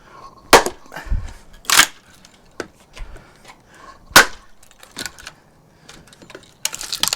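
Sharp, loud cracks and splintering snaps as a knotty log is split for firewood around a crack, several distinct hits spread irregularly across the clip with quieter creaks and rustles between them.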